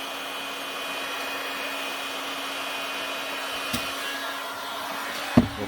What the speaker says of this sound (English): Let the heat gun cool.